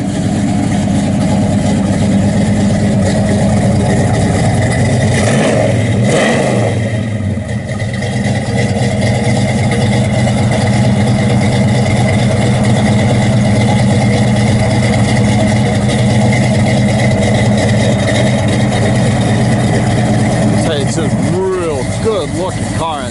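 A 1971 Pontiac LeMans Sport 400 idles with a steady, deep rumble that holds close and loud throughout, with a brief shift in tone partway through.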